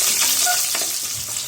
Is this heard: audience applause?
no